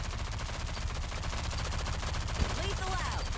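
A glitched gun in the shooter game Rogue Company keeps firing on its own after its player has died: dense, unbroken automatic gunfire that holds at steady loudness throughout.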